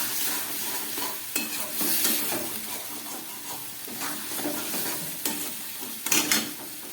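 Kabuli chickpeas stir-fried in a pan with a splash of water, a steady close sizzle overlaid with repeated scraping and stirring strokes of a spoon, some sharper clatters toward the end, no voices.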